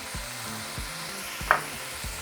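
Ground meat seasoned with oregano, Italian seasoning, salt and chili flakes frying in a pan for lasagna, a steady close sizzle with soft rhythmic scraping as it is broken up.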